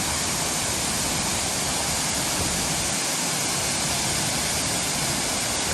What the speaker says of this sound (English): Here's giant waterfalls.